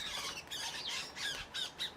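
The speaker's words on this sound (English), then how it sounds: "They're young starlings, and we've got a bird feeder, and they're fighting one another on that bird feeder for the suet balls." Young starlings squawking harshly in repeated bursts as they squabble over suet balls at a garden bird feeder, heard at moderate distance with no talking.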